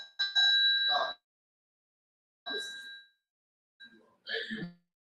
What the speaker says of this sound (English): You make sure they hear that bell